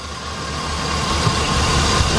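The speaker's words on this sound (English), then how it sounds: "Look at that random misfire right there. It ain't running smooth at all." 2005 Chevy Express G2500 van engine idling rough with a random cylinder misfire, a loud, close, continuous low rumble with uneven pulses and no talking.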